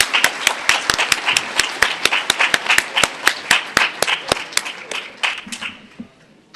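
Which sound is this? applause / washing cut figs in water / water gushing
applause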